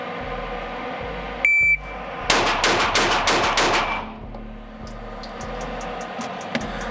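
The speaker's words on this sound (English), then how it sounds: "I'm gonna try and just do 5 headshots in that 2 second par time" Shot timer beep, then five rapid handgun shots fired from low ready at an indoor shooting range, loud and sharp, with room reverberation and echoing tails after the string.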